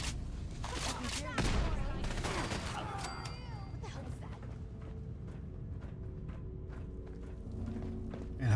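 Gunfire bursts in the video game Fallout 4, with several sharp shots in the first few seconds, then quieter ambient game sound and faint footsteps; a voice talks in the game.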